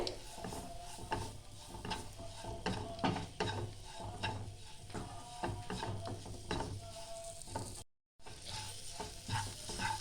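Flour roasting in butter in a pan over a low gas flame for white sauce, with repeated scraping strokes of a spoon and a soft frying hiss running steadily throughout, close and moderately loud, briefly cutting out near the end.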